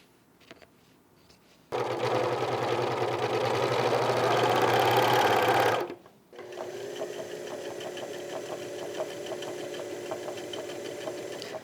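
A sewing machine hems flat shirt sleeves for a short-sleeved half-placket button-up shirt, running in a steady loud whir for about four seconds, stopping briefly, then starting again at a quieter, lighter hum.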